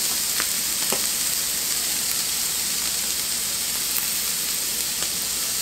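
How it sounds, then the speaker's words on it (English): Beef for fajitas fries in a pan with a constant bright sizzle and hiss, punctuated by a few faint pops and crackles, steady and close with no talking. "I'm going to add my beef in."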